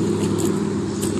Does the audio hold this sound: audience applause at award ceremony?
no